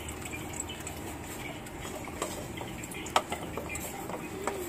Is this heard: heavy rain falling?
no